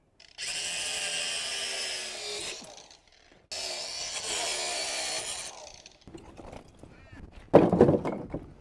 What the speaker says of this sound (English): I'm going to get my angle grinder out and just cut off this bit of Rio